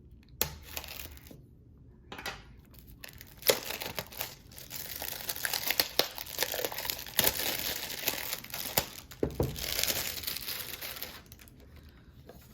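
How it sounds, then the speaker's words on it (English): Thick shrink wrap torn off a passport box, giving close, crackling crinkles and tearing rustles that come in bursts and swell into busier crumpling midway before fading, with no talking. "So you can go ahead and open the shrink wrap"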